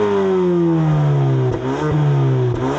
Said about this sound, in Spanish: Vamos al sistema de escape.